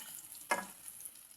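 Native chicken adobo sizzles in plenty of oil, a steady faint frying crackle with one brief louder stir or pop, heard close with no talk.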